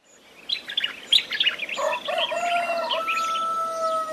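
Birdsong in a French-language morning radio jingle on Cameroonian national radio: bright chirps and tweets, clear and close, layered over a soft music bed, with no talking.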